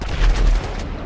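Gunfire in a multiplayer shooter video game: a short burst of rapid, booming shots in the middle, with steady background game noise before and after it. No voices are heard.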